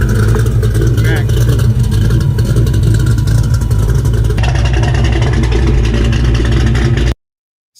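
Car engine with Vibrant exhaust mufflers revving hard, a loud continuous rasping drone that shifts in tone midway and then cuts off abruptly near the end.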